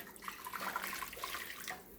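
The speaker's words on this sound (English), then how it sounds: "I'm just going to add 400 ml of boiling water" Boiling water poured into a jug holding half a beef stock cube, a steady faint splashing pour lasting about two seconds with no talk.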